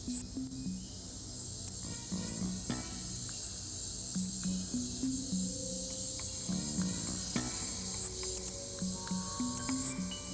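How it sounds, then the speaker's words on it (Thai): A grasshopper calls for a mate at night, giving rapid, repeated high-pitched chirping pulses over a quiet nocturnal background with faint lower sounds. "เมื่อตะกแตนส่งเสียงเรียกคู่"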